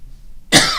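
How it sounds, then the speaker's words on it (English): A single loud, close cough bursts out after a half-second of near silence, with a brief throaty tail at the end. "excuse me for the cough, I'm so sorry"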